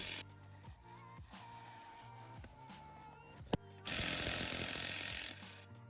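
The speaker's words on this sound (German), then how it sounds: "Löse diese mit einem Steckschlüsseleinsatz Nummer 18" An 18 mm socket loosens the control arm bolts on a VW Passat B7 suspension, giving rapid hammering, ratcheting bursts in short repeated spells, followed by a louder, sustained rattle near the end.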